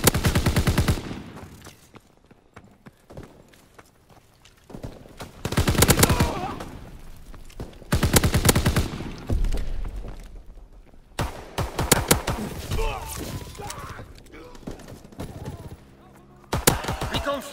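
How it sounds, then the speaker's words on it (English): Fighter aircraft in a WW2 game strafe with machine guns, long rattling bursts of rapid fire coming in waves separated by quieter gaps, loud and close. "Fighter aircraft ready for strafing run."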